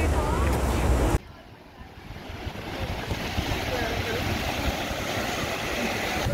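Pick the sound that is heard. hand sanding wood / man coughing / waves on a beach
waves on a beach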